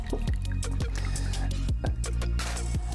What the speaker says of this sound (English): I'll just give this a little pour.